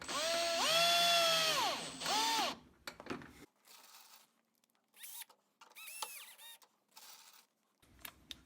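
A power drill drives a screw into a wooden loom jig in short whirring bursts that rise and fall in pitch, separated by pauses and small handling noises.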